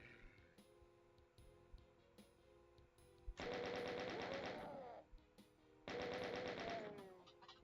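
Two sustained bursts of rapid chaingun fire from chaingunner enemies in Doom TNT, each lasting about one and a half seconds, loud and close, separated by quieter game ambience with a sharp shot just before the first burst.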